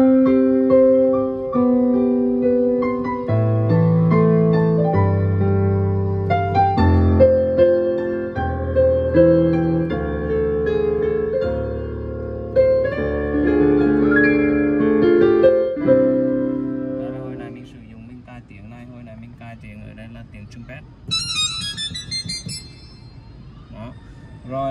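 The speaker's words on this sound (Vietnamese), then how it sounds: "hồi nãy mình cài ở đây là tiếng piano" Piano voice played on a Yamaha Clavinova CVP-501 digital piano, a flowing melodic passage with chords and moving notes, loud and close; the tone shifts to a thinner, brighter texture toward the end.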